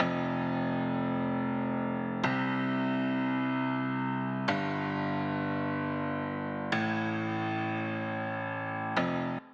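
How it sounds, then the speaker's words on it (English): In a pop production, a piano plays chord root notes as bass octaves, struck about every two seconds, each rich chord ringing fully until the next, loud and alone. "have a piano just playing the root notes of the chords as octaves in the bass end"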